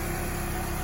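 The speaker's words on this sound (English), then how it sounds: "the engine is in and running" A junkyard replacement engine in a Hyundai Tiburon idles a little high, a steady close hum with a faint vibration and no voices.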